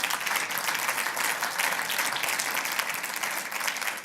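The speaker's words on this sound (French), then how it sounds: "une grosse main d'applaudissements" Steady, dense applause from an audience at a SMPTE speed-dating evening with distributors, many hands clapping evenly for several seconds.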